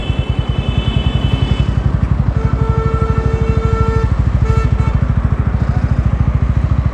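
A TVS Ronin 225 motorcycle cruising steadily in third gear with no throttle input, its single-cylinder engine giving a continuous, close, loud pulsing drone with no talk.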